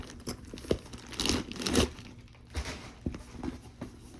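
Plastic wrapping crackles and crinkles as it is pulled from inside a vintage Louis Vuitton bag, with bursts of rustling and a few soft thumps and tears, close and fairly loud.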